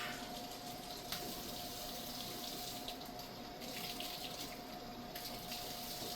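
Tap water running steadily into a sink while bottle parts are rinsed, a constant close splashing rush with no talking.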